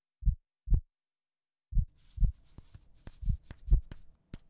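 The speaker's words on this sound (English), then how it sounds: "Oh, that's a weird heartbeat." Deep thumping heartbeats sound effect from a Sonic cartoon: two isolated beats, a pause, then faster throbbing pulses joined by clicks and rustling sounds.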